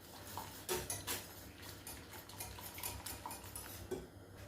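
A breakfast mix with nutmeg and cinnamon stirred in a bowl, faint clinks and taps of a utensil against the dish at uneven intervals, quiet and close with no talking.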